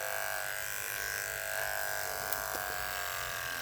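Electric hair clippers trimming a dog's feet buzz steadily close by, a constant low hum with faint scraping as they trim.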